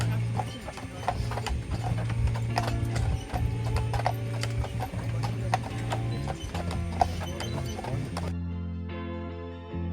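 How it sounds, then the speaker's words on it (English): A horse-drawn carriage clip-clops toward a castle in Germany, with steady hoofbeats and rattling wheels and harness under a low rumbling hum, then the noise cuts to quieter rolling near the end. "A horse-drawn carriage up to the castle."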